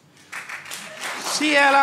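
A woman in a stand-up comedy audience claps briefly, a short patter of hand claps amid crowd murmur and a voice speaking over it.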